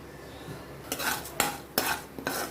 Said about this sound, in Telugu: కొంచెం ఫ్రై అవ్వనిద్దాం